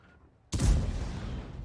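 A single tank cannon shot in World of Tanks booms suddenly after a quiet moment, loud and close, with a long rumbling decay trailing off.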